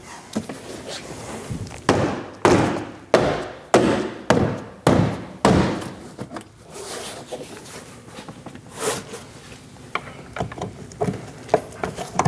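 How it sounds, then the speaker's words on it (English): A series of sharp, solid taps and snapping thuds as a rear door panel's clips click into place on a Dodge Durango, roughly evenly spaced, followed by lighter clicks and rustling; close and fairly loud, no talking. "give it a solid tap, and you'll hear the clips click in"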